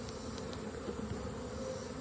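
Honeybees buzz at an open hive during an inspection, a dense continuous drone from many insects close by, with no voices.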